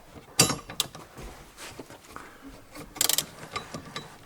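Metallic clicks and ratcheting from a 10mm ratchet wrench loosening a bolt on a Toyota Prius during battery replacement, with a sharp burst near the start and a cluster of rapid clicks later, close and moderately loud.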